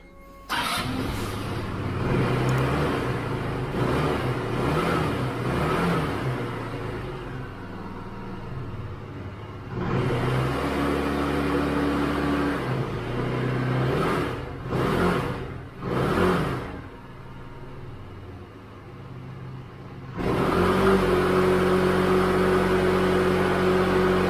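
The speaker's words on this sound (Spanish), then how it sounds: "yo la arranco y la dejo un ratillo arrancada para que el aceite vaya circulando por todas las partes del motor" A KYMCO Agility City 125cc scooter engine idles steadily after an oil change, a continuous close mechanical drone with a few brief revs and dips partway through, heard alone without speech.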